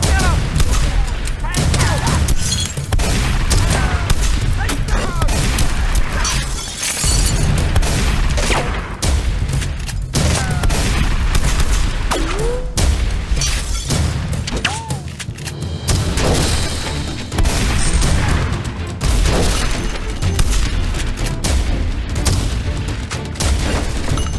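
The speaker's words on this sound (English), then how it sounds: "Open fire!" Action-movie gunfire: dense, continuous volleys of loud shots and booms crackle for the whole stretch, with shouted voices mixed in at times.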